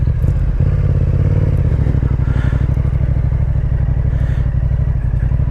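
A Yamaha MT-07 naked motorcycle with a 689 cc twin engine of about 65 horsepower, heard while riding: a loud, steady, close engine drone with a pulsing low throb and rising revs, no talk.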